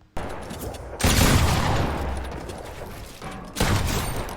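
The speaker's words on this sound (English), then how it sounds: "right when it's finished pulling out, I shoot the gun" A shotgun in a video game is drawn and fired, heard as a sudden loud blast followed by a long noisy decay, then a second sharp burst near the end, close and harsh.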